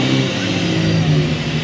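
Close and loud, the S50 engine of a big-turbo BMW 325 drones and revs as the clutch is slipped at a cars and coffee meet, holding a steady strained tone for under two seconds.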